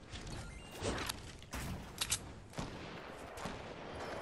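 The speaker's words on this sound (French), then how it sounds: "Oh, le nouveau fusil." Bursts of rifle fire from a new weapon in the video game Fortnite, several sharp shots scattered over a busy, noisy game soundscape at moderate loudness.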